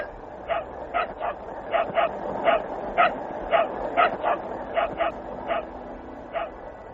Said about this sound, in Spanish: Escuchemos algunos de estos ladridos.